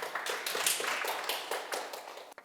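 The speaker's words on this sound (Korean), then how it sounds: "박수 한번 쳐주세요." Listeners at a Buddhist Sunday dharma talk clap together, a crisp burst of individual hand claps that thins out and stops near the end.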